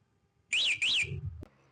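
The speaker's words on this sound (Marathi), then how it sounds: "आपल्या रिक्षाला अलार्म सिस्टम बसून झालेला आहे" An auto rickshaw fitted with a car-type alarm system gives two loud warbling electronic siren chirps triggered by remote, followed by a short low rumble and a sharp click, close by.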